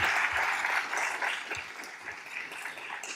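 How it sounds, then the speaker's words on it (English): Audience at a UNIDIR Innovations Dialogue conference applauding the panel speakers, a dense, steady round of clapping from a hall full of people that holds evenly for a few seconds. "can I please ask the audience to join me in a round of applause for our distinguished speakers?"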